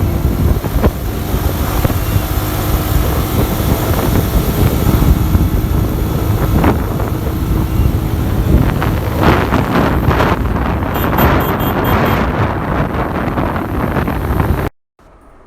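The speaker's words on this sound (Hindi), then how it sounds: "हमारा गाड़ी अभी भाग रहे हैं 70-80 के स्पीड में" Steady roar of a vehicle moving fast at about 70-80, with heavy wind buffeting the microphone throughout, cutting off abruptly at the end.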